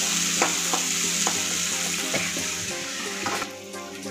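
Onions and green chillies frying with curry leaves in a pan, a continuous bright sizzle broken by several scraping stirring strokes, close up and without speech.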